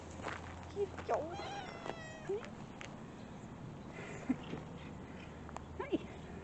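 A cat meows several times outdoors on a morning walk, short quiet calls spaced apart with a few rising cries, while a person nearby talks softly.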